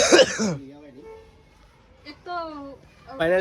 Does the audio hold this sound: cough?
yes